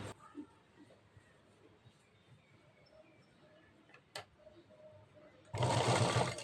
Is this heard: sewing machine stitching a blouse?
yes